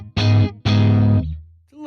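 Electric guitar played through a Fractal Deluxe Reverb amp model, a slightly gnarly, distorted tone: two strummed chords ring loud and close, the second sustaining then fading, with a quieter note at the end.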